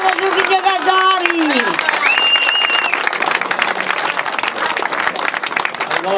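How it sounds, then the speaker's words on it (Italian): At a youth football tournament's finals and awards ceremony, a crowd applauds the players, the clapping steady and fairly loud beneath an amplified voice and some tonal sounds early on. "un applauso a tutti i giocatori."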